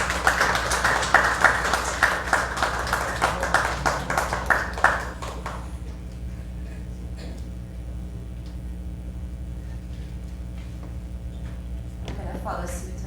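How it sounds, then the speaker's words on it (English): Audience applause for publisher Janelle Fronton at a memoir book event, a dense burst of clapping that runs for about five seconds and then stops abruptly, leaving a quiet room with faint scattered sounds. "Let's give her a round of applause"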